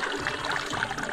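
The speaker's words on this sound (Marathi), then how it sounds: "चिकन धुवायचं काम चालू आहे पहिलं, आणि एकदम नॅचरल मध्ये आपण धुतोय" Water pours and trickles over raw chicken being washed with drinking water outdoors at a jungle picnic in Murud, a brief steady splashing that lasts about a second.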